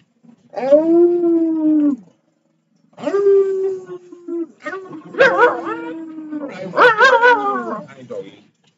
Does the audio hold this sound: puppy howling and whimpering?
yes